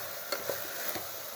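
Ingredients for Tamil-style peas rice sauté in a pan, a soft close sizzle broken by a few quick stirring scrapes of a spoon against the metal, with no voices.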